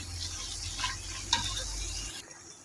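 Cashews and onions frying in a pan and being stirred, a steady close sizzle with a few scraping stirs, no talk, ending in a short quiet tail.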